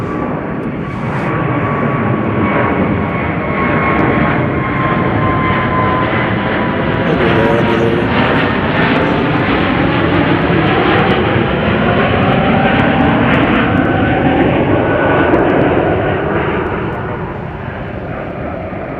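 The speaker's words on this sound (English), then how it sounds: "What do we got here taking off? This is Qatar flight" A Qatar Airways jet bound for Doha roars loudly during its takeoff roll and climb at Chicago O'Hare, a steady sustained rumble with a shifting whine. A voice speaks faintly at times.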